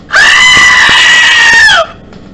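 A loud goat scream, used as a notification tone, sounds once as a long, harsh, wavering bleat that holds steady and then drops off sharply at the end.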